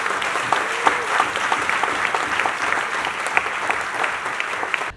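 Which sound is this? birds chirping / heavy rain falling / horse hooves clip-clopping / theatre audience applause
theatre audience applause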